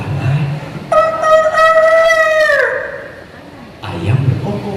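A voice imitates a rooster's crow in one long, rising then falling call during a storytelling workshop, with background noise before and after.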